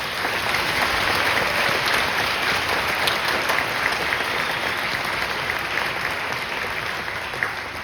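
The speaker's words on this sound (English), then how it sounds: "Please, let's give them a round of applause." A concert audience applauds the band directors at an all-district band concert, a dense and steady roar of clapping that holds for the whole stretch without talk.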